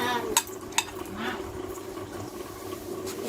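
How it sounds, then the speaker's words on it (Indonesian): Homemade fried rice is stirred in a pan, with a couple of sharp utensil clanks against the pan early on and a soft sizzle underneath, fairly quiet and close. "Masak nasi goreng buatan sendiri."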